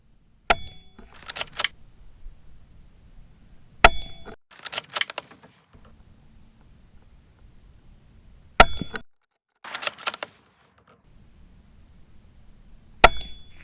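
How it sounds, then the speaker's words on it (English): Hunting rifle fired at a target through a scope: four sharp, loud cracks spaced a few seconds apart, each followed by a brief burst of clatter, with quiet low rumble between shots and no talk. "I'm gonna try to put 4 shots right there in that red."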